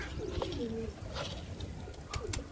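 Domestic pigeons kept by a hobbyist coo in low, rolling calls that repeat several times at close range, mixed with light clicks and rustling.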